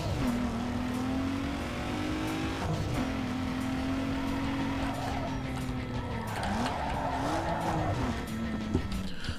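A car engine in NFS Underground 2, its tone like a V6, drones steadily and loud throughout, pitch rising and dipping through gear shifts, with brief tire squeals near the end.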